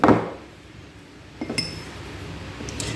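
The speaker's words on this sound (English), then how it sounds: "just give it a stir" A spoon stirs Nutella into pastry cream in a bowl for a Paris-Brest, giving a knock at the start and then soft scraping with a few light clinks against the bowl. No voices.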